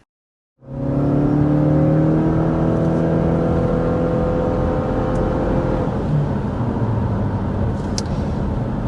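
A 2025 Subaru Forester Hybrid with an eCVT accelerates from rest, its engine rising to a steady droning whir with layered tones that shifts slightly partway through, heard from inside the car with no talk.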